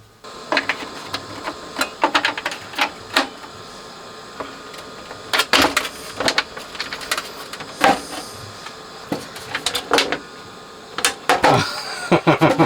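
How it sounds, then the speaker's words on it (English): A CPM 100H label printer printing and cutting button markings, running as a steady mechanical whir broken by sharp clicks and clacks, close and fairly loud, with no talk. "This is a CPM 100H printer from Lighthouse."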